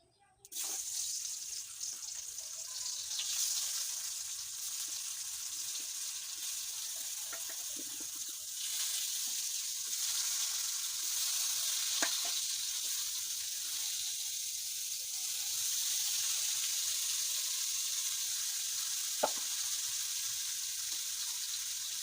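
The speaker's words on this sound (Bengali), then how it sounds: "কলা ভাজা হয়ে গেছে আর এখন কলা ভাজা হয়ে গেছে" Plantain slices frying in hot oil in a home kitchen give a steady, broad hiss like running water, continuous and fairly close, with a few faint clicks and no speech.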